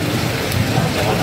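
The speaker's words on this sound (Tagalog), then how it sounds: "Grabe ang ulan." Heavy rain roars in a dense, constant wash, loud and close with a low rumble underneath, briefly heard alone.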